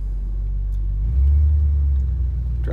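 A 1968 Chevrolet Caprice with a 327 engine and Turbo 400 three-speed transmission drives along, its deep low engine rumble steady and then swelling louder midway as it pulls.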